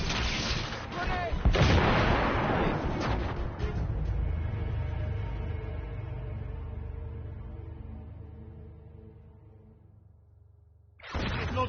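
Grenade blast and gunfire ring out in a PS4 war video game, with a loud rumbling explosion and crackling shots up front, then a long decaying boom that fades away before another sharp burst at the end.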